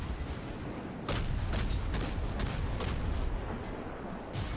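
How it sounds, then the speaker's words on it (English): Naval guns in World of Warships fire a rapid volley of about half a dozen loud, close booms with sharp cracks, each trailing into a heavy low rumble over constant background roar. "I just love the new gun sounds."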